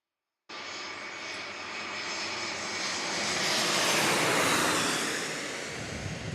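An American Airlines jet airplane passes at San Diego airport, its engines a loud, steady roar that swells toward a peak and then eases slightly, with no talking.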